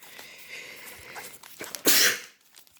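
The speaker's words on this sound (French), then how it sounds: "petite crise d'éternuement" A person has a sneezing fit: one sharp, loud, close sneeze bursts out near the end, after quieter snuffling sounds and shuffling before it.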